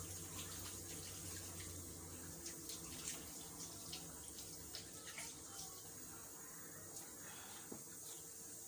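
Tap water running steadily into a sink while hands are washed after handling raw meat, a continuous faint splashing rush with small irregular spatters, heard alone with no talk.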